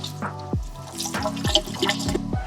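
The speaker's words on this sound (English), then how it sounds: "Scrubs can be kind of harsh on your skin when you just put it on dry. So I'm gonna wet my face a little." Water from a bathroom sink splashed onto a face to wet the skin before a facial scrub, soft close drips and splashes under a running tap, no talking.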